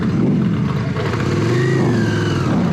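Yamaha Virago motorcycle engine running loud and close, a steady low rumble with harmonic drone and a rising rev toward the end.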